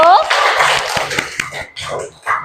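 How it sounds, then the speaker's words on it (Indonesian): Classroom applause for a student group, scattered clapping from students mixed with children's voices and chatter, uneven and fading in and out rather than a sustained ovation. "Tepuk tangan untuk kelompok 1."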